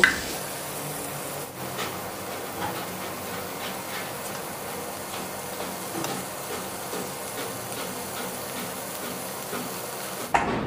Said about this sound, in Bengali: তেল গরম হয়ে গেছে। এবার এতে নুন হলুদ মাখানো চিংড়ি মাছগুলো আমি দিয়ে দিলাম।